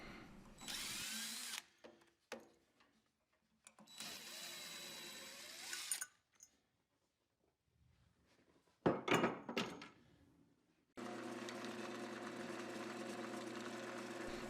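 A wood lathe spins a homemade 20-inch disc sander while its front face is turned true, giving loud whirring cutting bursts separated by pauses, followed by a steady running hum.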